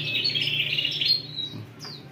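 An oriental magpie-robin sings close by, a loud run of bright whistled chirps and trills followed by a short rising note, over a low background hum.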